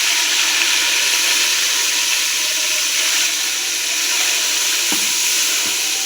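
Ginger paste sizzling hard in hot oil in a pan while khichdi is being cooked, a loud, dense, continuous fry with a couple of faint clinks near the end.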